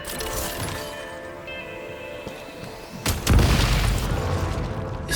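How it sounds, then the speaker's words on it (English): Explosives detonate in the Genshin Impact video game: a sudden loud boom about three seconds in, layered with crackling debris and a lingering rumble over steady game background sound. "Shoot the explosives to detonate them and clear the path."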